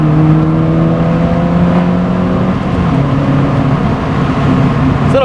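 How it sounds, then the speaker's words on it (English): A GD3 Honda Fit rolls downhill with a steady engine drone and road whir, the pitch holding then stepping down partway through as it coasts, loud and close from inside the cabin. "This little car can get going downhill."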